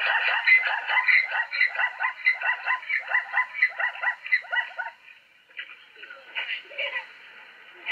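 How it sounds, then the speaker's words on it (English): A Grevy's zebra calls in a rhythmic series of loud, repeated braying gasps that pulse steadily for several seconds, then fade out, followed by a few fainter sounds. "Listen to a zebra."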